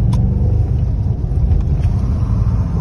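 A BMW M5 rated at 600 hp idles or runs close by in a steady, loud, low engine rumble, heard from inside the car, with no talking over it.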